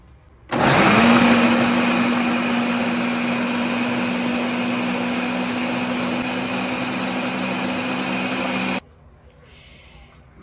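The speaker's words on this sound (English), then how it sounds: "So it's time to blend them together." A blender grinds egusi seeds with pepper, onions and crayfish: a loud, close motor roar spins up abruptly, holds steady for about eight seconds, then cuts off sharply into quiet.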